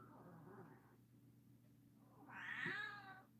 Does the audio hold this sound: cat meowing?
yes